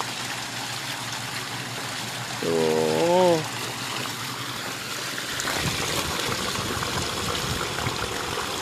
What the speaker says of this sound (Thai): น้ำนี่เป็นน้ำจากลำธารด้วยนะไม่ใช่น้ำประปานะฮะ